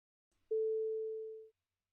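A pure sine-wave tone generated by an Unreal game-engine sound system, starting with a sharp attack and then fading steadily under its envelope over about a second before cutting off, clean and alone.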